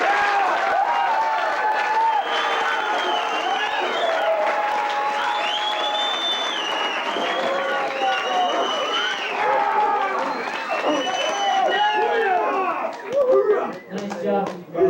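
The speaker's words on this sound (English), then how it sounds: "So give yourselves a big round of applause" Scout crowd at Philmont claps and cheers with whoops, a dense, loud wash of applause and voices running steadily before thinning toward the end.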